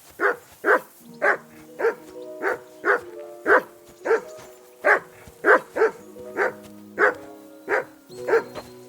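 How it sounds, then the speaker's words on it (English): A dog in the video game Kingdom Come: Deliverance 2 barks repeatedly in a steady rhythm, about sixteen sharp, mid-distance barks over several seconds with a faint musical drone underneath. "That barking was a pain in the ass."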